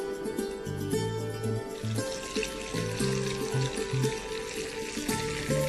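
Oil and butter heat in a pan with a steady, soft sizzle running throughout, partly masked by background music playing over it.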